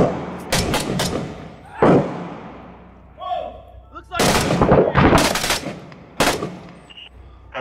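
Loud bursts of machine gun fire rattle in rapid clusters during a firefight in Six Days in Fallujah, with heavy thuds and sharp cracks between them and people talking in the pauses.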